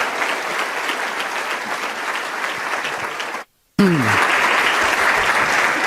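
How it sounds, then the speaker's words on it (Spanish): Audience applause welcoming a speaker to the stage, dense steady clapping from a crowd that cuts to a brief silence, then resumes just as loud with a short falling electronic tone over it. "le voy a pedir que lo recibamos con un aplauso"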